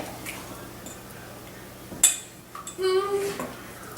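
Cookie dough with molasses, egg and melted butter is mixed in a bowl, with scattered clinks and scrapes of a utensil against the dish, a sharper knock midway and soft voices in the background.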